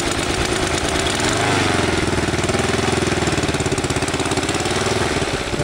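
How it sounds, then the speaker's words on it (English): A Honda GX200 engine, started from cold and mounted on a backpack rig, runs loud and close with a rough, pulsing mechanical chug that stays steady throughout. "Robert's first attempt at starting the motor from cold on his back"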